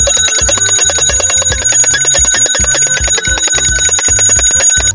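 A bright bell rings rapidly and continuously for several seconds, with a rhythmic low thumping running underneath.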